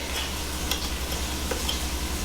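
Peanut butter cookie dough being stirred with a paddle or small whisk, heard as a steady soft scraping and swishing texture with a few faint clicks, close by and alone.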